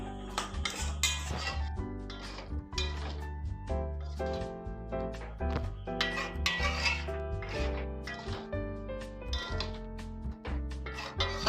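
Tadka dal is stirred in a metal pan, with a close, steady stream of spoon scrapes, rubs and clinks against the pan, repeating rhythmically and without pause, with no talk.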